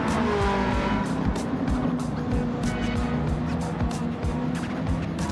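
A Corvette ZR1 road car with Road Atlanta livery in Gran Turismo 7, its engine roaring loud and close with rapid revving, gear changes and tire squeal.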